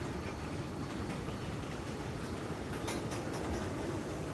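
A Norfolk Southern freight train led by an AC44C6M locomotive inches forward, a steady low rumble and faint metallic clanks heard from a distance.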